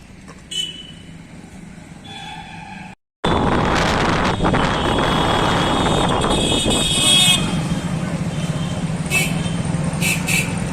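A motorcycle ride under a cloudy sky roars with heavy wind buffeting the microphone. A brief quieter stretch is followed by a sudden cutout, then constant loud rushing engine and wind noise.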